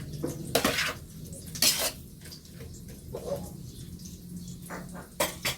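A lid set onto a pan of sautéed bitter gourd (ampalaya), sharp metallic clanks and rattles in a few bursts over a faint background hum, close by, no speech.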